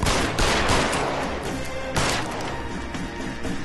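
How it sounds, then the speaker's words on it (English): Police gunfire in the video game L.A. Noire, a dense burst of loud crackling shots at the start with another blast near the middle, over a noisy, chaotic background. "I've discharged my gun twice."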